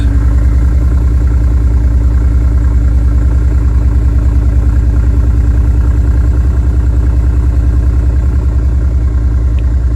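A 2013 Mercedes G63 V8 after an O2 sensor replacement for a misfire idles at a loud, close, steady rumble with an even low throb, alone throughout.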